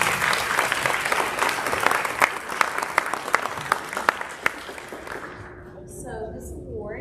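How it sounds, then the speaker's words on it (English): An audience at an eighth-grade graduation ceremony claps in a full round that gradually thins into scattered individual claps and fades out, with a person talking quietly near the end. "another round of applause"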